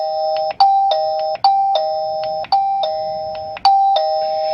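A Mubview J7 smart video doorbell chime rings through a repeating electronic ding-dong tune, four bright struck tones with ringing decays in steady succession, close and moderately loud with no voices.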